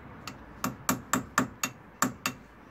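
A hammer striking a punch to unstake the driveshaft nut on a Peugeot 206 during shock absorber replacement: eight sharp metallic blows in a fairly even rhythm, close and loud, with no talk.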